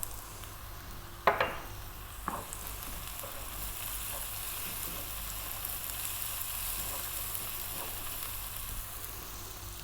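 A zucchini, chickpea and tomato sauce with oregano, cumin, salt and pepper sizzles steadily in a frying pan, with a couple of sharp utensil clanks early on as it is stirred.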